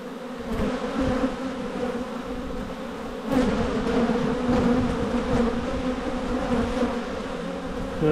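Honey bees drone continuously in an opened, long-uninspected abandoned beehive: a loud, close, steady buzz that swells slightly partway through, with no talking.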